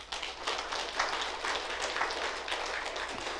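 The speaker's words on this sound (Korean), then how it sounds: "박수." A church congregation applauds during a Sunday service, a dense, steady wash of many hands clapping that holds evenly and fairly softly throughout.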